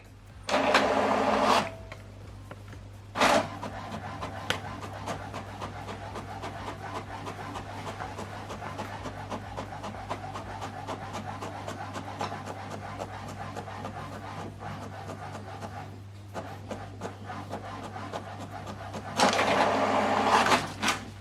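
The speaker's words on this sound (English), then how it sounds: "So now printing this document page 2 and 3." HP Deskjet printer printing document pages, with a steady low hum and soft mechanical whirring throughout, and louder feed bursts near the start and end, close by and moderately quiet.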